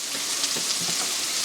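Vegetables and meat for Sonoran hot dogs cooking in a pan, a steady bright hiss of frying with a few faint crackles, close and continuous, no talking.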